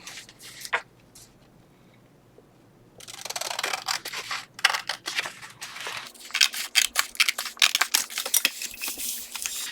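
Scissors trimming small pieces of paper at a craft table, a run of quick sharp snips and rustles that starts after a quiet opening and grows busier toward the end, close and fairly loud.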